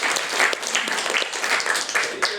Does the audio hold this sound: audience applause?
yes